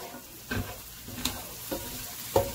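Steady low sizzle of onions frying in a pan beside chicken breast, with a few soft scraping stirs from a utensil at irregular moments.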